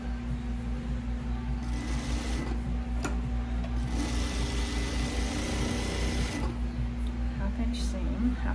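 Sewing machine stitching a seam on a cotton pajama shirt, a steady mechanical whir running continuously, with brief pauses and reverse back tacking at the end, near and fairly loud.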